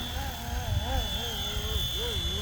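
Flywing H1 RC helicopter in flight during pitch-curve testing, a steady high whine from the rotor and motor with a wavering, rising and falling engine tone over a low rumble, continuous and fairly close.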